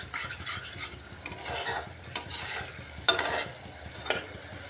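Spiced masala with yogurt sizzles and fries in a pan over a raised gas flame for an ash gourd curry, with steady scraping stirs and occasional sharp utensil clinks against the pan.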